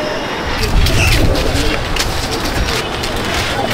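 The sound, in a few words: Andhra pattha pigeons in a loft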